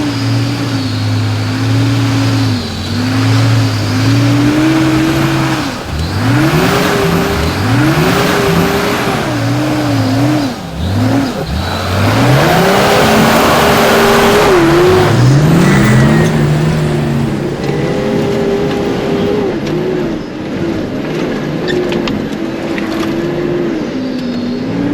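A 4x4 engine is held flat out in third gear up a steep, hard bush track, revving loudly and steadily, with rises and dips in pitch as it bogs and picks up, close and continuous with no talk.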